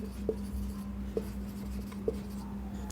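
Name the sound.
writing on a board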